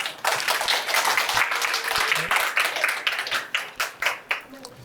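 Audience applause at a science talk in Daejeon, a dense, steady crackle of many hands clapping near the microphone, thinning into separate claps toward the end.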